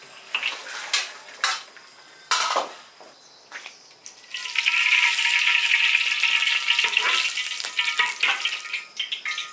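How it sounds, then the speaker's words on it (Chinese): Pork ribs are set in cold water with cooking wine in an iron wok over a wood-fired stove to blanch. Sharp metal clanks and scrapes come first, then a steady, close bubbling hiss with occasional utensil knocks. "排骨冷水下锅，加点料酒，焯个水，撇去腐膜"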